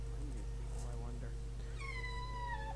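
A cat gives a drawn-out, falling meow near the end, clear and fairly close, over a constant low background hum.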